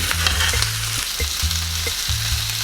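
Quail fry in a pan with herb cream, giving a loud, continuous sizzle with bubbling and spitting. A low rhythmic hum repeats underneath, and no one speaks.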